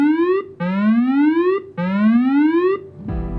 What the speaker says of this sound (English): if the alarm goes off, we're launching